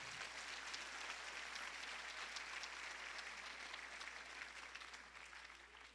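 Applause from a church congregation, a steady crowd clapping that holds throughout and trails off slightly at the end, faint and distant.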